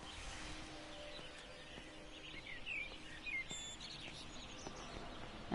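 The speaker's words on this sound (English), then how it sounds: "That's like the only living things you hear are the birds." Birds chirping in the video game Everybody's Gone to the Rapture, faint scattered high tweets over a quiet, hushed ambient background, with no talking.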